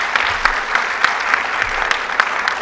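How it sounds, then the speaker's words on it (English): Audience applause for a panel of speakers at the close of a conference session, steady clapping from a room full of people sustained evenly throughout. "give everybody, my panelists, an applause"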